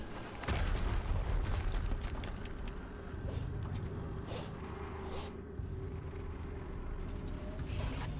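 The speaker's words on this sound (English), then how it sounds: "Another explosion." An explosion in the video game Horizon Zero Dawn: a sudden loud boom followed by a sustained low rumble and game ambience lasting several seconds, with a few fainter bursts later.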